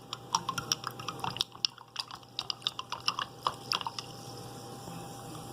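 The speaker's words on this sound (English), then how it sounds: "Let's give this a stir." A fermenting wild yeast starter with blackberries and golden raspberries being stirred, producing faint liquid clicks, drips and light sloshing taps in an uneven series, quiet with no talk.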